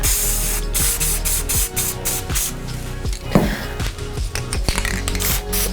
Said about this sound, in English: let's go ahead and start spraying into the bowl